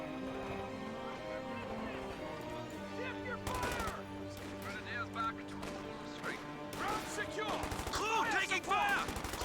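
MG-34 machine gun fire in Company of Heroes 2 from a garrisoned stone building: sharp bursts of gunfire with explosions and clattering debris under a steady battle ambience, growing busier toward the end.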